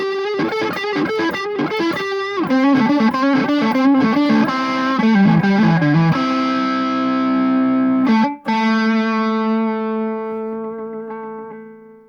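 An electric guitar on its neck pickup, driven through an MXR Classic Distortion pedal, plays a loud distorted riff of chords and single notes, ending on a long ringing chord that fades out.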